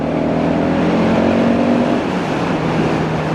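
A KTM 690 Duke motorcycle engine pulls hard in fifth gear, a loud, close, continuous droning roar whose pitch holds steady and then eases slightly near the end.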